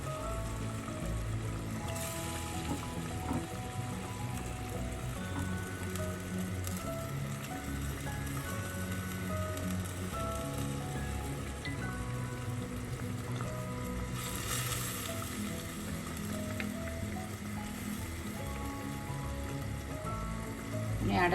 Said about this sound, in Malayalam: കറിയൊക്കെ തിളയ്ക്കാൻ തുടങ്ങിയിട്ടുണ്ട്